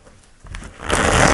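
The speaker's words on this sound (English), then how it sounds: "I'll do one more shuffle." Tarot cards being shuffled during a weekly Pisces reading, a short riffling burst that starts softly and swells into a dense, close flutter toward the end.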